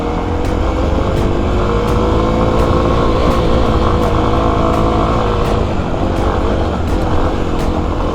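Kawasaki KLX250 dirt bike engine held at full throttle in third gear on a steep cliff trail, a loud, steady, unbroken drone close by with no talk over it.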